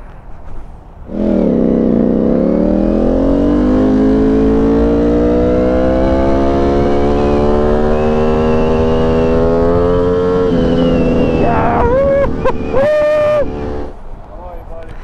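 Ducati Streetfighter V4S motorcycle engine idling and rising in a long smooth rev, loud and close, dropping back near the end with short blips; brief voices come in as it settles.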